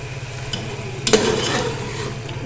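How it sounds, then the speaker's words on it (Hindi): Ghee meets a hot pot of aloo gosht with a steady low sizzle, broken by a sharp clink of a utensil against the pot and some stirring. "तो बाकी अब हम इसमें घी डालेंगे।"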